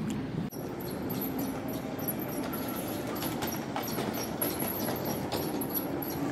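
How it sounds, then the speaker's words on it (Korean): A train rolls past in Fukuoka, Japan, with a steady rumbling roar and a faint rhythmic clatter from the wheels over about six seconds, at moderate distance with no talk. "기차야, 어디 가니?"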